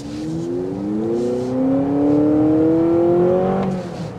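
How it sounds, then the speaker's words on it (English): A 2024 Honda CR-V Hybrid Sport Touring engine revs up steadily over about four seconds, its tone climbing and holding loud near the end before dropping off, heard alone without talk. "Let's hear that engine."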